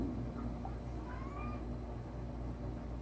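A cat gives one faint, drawn-out meow partway through, heard alone over a steady low indoor hum.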